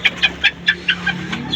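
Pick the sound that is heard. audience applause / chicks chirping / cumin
chicks chirping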